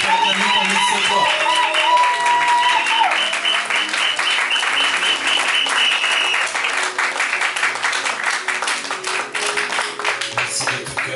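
Wedding guests burst into sustained, loud applause with cheering that carries for over ten seconds, dense clapping filling the room after a brief musical tone at the start.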